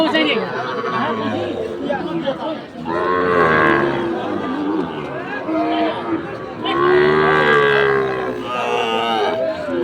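Cattle, including Sahiwal bulls and calves, low repeatedly amid a busy crowd of overlapping voices, with chatter continuing throughout at a lively livestock market in Dinajpur.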